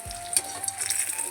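Eggplant slices frying in hot oil in a small wok, giving a steady close sizzle and crackle with a faint tonal hum throughout.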